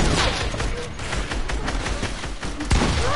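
Heavy sniper rifle fire in a video game, dense rapid bursts of gunshots and booms sounding continuously and loudly throughout.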